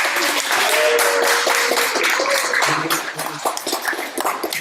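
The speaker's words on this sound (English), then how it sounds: "applause" Audience applause after a countdown at an interview event, a broad wash of clapping from a group that thins out toward the end, with a few voices and scattered claps underneath.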